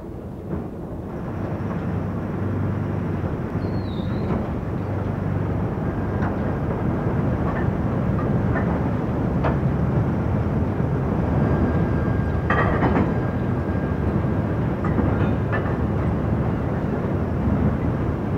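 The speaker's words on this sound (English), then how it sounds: "the empty wagons would then reverse and run onto the back of previously emptied wagons to form a" Empty British railway wagons in 1996 rolling and shunting under gravity, a continuous low rumble of wheels on track with occasional faint knocks and squeals, steady and fairly loud throughout.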